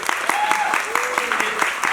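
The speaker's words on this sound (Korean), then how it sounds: "자, 박수 한번 보세요" An audience applauds at the closing-night curtain call of a stage musical, a dense, close patter of clapping with voices and brief cheers mixed in.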